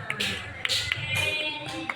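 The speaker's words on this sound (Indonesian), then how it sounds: "Tepuk tangan untuk kelompok norma kesopanan." Classroom applause for a presenting student group: a short burst of scattered hand clapping with sharp individual claps, fairly close, mixed with faint voices.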